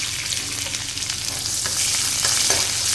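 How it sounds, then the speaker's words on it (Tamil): Shallots frying in hot oil with mustard seeds and urad dal, a steady dense sizzle with faint stirring scrapes, close and alone with no talk. "சேர்த்துட்டு நல்லா அதை எல்லாத்தையும் வதக்கி விட்டுக்கலாம்."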